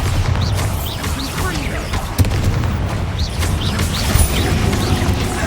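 Bombarda blasting spells and other combat magic in Hogwarts Legacy rumble continuously, with booming low thuds and a couple of sharper cracking hits over a steady roar, faint voices mixed in.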